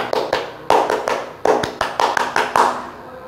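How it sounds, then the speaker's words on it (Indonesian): A group of scouts performs the rhythmic scout clap (tepuk pramuka), sharp close claps landing in a patterned burst of about ten beats with short pauses, and no talk over it. "mari kita sekali tepuk pramuka"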